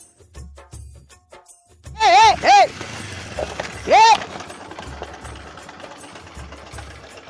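A vehicle engine idles with a low, steady throbbing pulse running beneath loud, agitated voices shouting back and forth close by.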